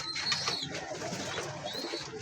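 A large male Allahabadi Kalchira pigeon cooing close by, soft low repeated coos over faint background noise, no talk.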